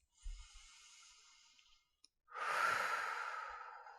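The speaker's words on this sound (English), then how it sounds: "take 3 deep breaths" Two deep breaths during a seated morning stretch routine, a soft, steady breath in followed after a short pause by a louder, rushing breath out, close and alone with no talking.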